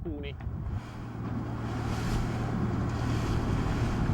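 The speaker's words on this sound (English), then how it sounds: "Now they're getting a few strong gusts of wind out there." Strong wind roars steadily across the microphone aboard a Salona 44 sailing yacht, with rushing water beneath, building slightly in force over a few seconds.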